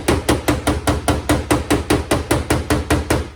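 Hammer taps on a car body panel, about fifteen light, evenly spaced strikes in a steady rhythm, close and fairly loud with no talking.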